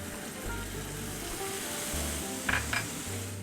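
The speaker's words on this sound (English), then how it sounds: "What I'm going to do is I'm going to glaze this with some Chinese cooking wine." Grilled lemongrass chicken sizzles in a pan as a Chinese cooking wine glaze goes in, a steady close hiss broken by a couple of brief metallic clinks partway through, with no voices.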